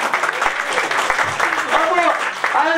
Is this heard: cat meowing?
no